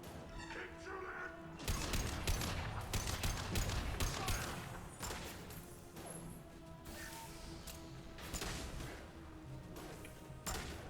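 Rapid bursts of weapon fire from combat in Mass Effect 2, dense overlapping shots and impacts in volleys, with game voices faintly in the mix.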